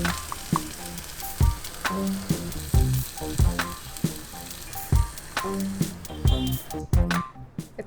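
Quail eggs fry with spices, onion and tomato paste in a pan on high flame, sizzling steadily up close while a utensil repeatedly scrapes and knocks against the pan in an uneven rhythm.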